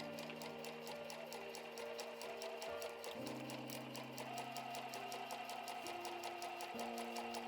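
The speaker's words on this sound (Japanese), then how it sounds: "そして今回もまたミシンでステッチしました。" A sewing machine stitches a small, thin fabric pouch in a steady rapid needle rhythm, faint and continuous with slight pitch changes in the motor hum, no talking.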